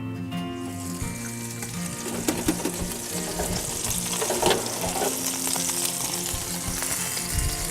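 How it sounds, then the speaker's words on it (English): A Wagyu beef bacon-wrapped meatloaf fresh from the oven sizzles steadily with a close, continuous frying hiss and faint crackles throughout. "The meatloaf is ready to come out of the oven"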